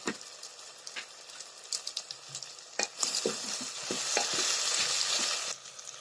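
Oil sizzles steadily in a pan while a spoon scrapes and stirs jackfruit curry with meat masala, with frequent clinks, the sizzle swelling louder toward the end.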